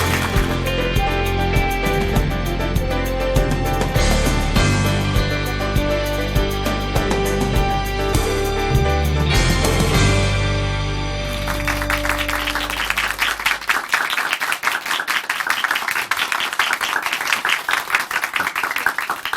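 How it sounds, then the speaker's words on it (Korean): Audience applause at a Korean broadcast lecture on homosexuality, welcoming a professor to the stage. Steady clapping from a studio crowd comes in after a loud musical passage and continues to the end. "교수님 나오실 때 큰 박수 부탁드립니다"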